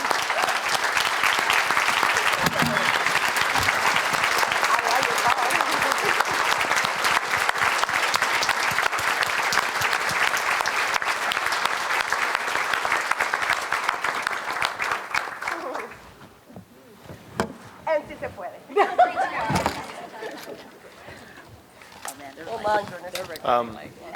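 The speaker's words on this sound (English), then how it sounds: "I would like you all to stand up and give these amazing people a round of applause for sharing their stories" A standing audience at a community forum celebrating immigrants in Marin gives sustained, dense applause, which fades out after a while into quieter room noise with some people talking.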